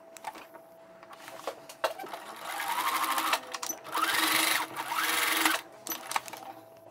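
A sewing machine stitches sponge (terry) fabric in loud, steady, close bursts of whirring needle action, with brief pauses between runs and no talk.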